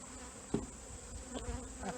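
Honey bees buzz steadily and close while two nucleus colonies are combined for winter, a continuous drone with small bumps and knocks of handling over it.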